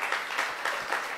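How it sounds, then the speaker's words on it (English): A short burst of applause, several people clapping together, fairly faint and steady. "A round of applause for him."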